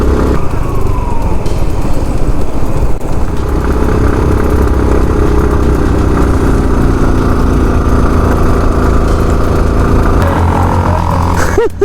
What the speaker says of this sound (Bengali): বাইক এক গিয়ার দিয়ে টানতে হইতেছে, মানে এক গিয়ার ছাড়া বাইক উঠানোই পসিবল হইতেছে না।